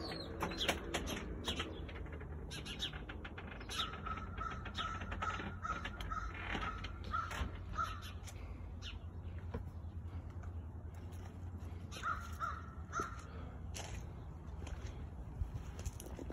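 Crows caw outdoors in repeated harsh calls from moderate distance over a steady background hum, with no one speaking.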